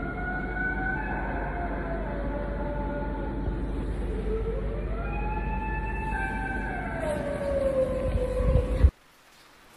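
A long, eerie wail rising and falling in pitch over a steady rumble of rain in the middle of the night, sustained for several seconds before cutting off abruptly.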